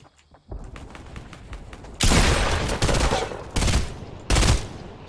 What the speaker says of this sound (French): Je tire comme une couille.